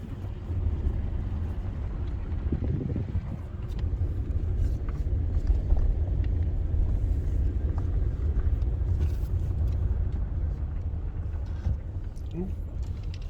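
A car rolls along a dusty road in Death Valley, giving a steady, loud low rumble from the cabin with faint crackles of road grit throughout.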